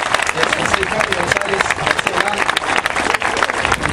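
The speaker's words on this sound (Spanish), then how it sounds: "Fuerte el aplauso por favor para esta demostración." A crowd at a Shinkyokushin karate exhibition at a floral fair applauds a stone-breaking demonstration, loud dense clapping mixed with crowd babble and voices throughout.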